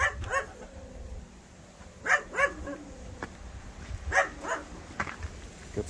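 A puppy barks in short, sharp yips in two clusters around the middle and later in the clip, near and fairly loud against a quiet farmyard background.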